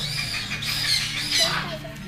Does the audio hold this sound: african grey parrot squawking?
yes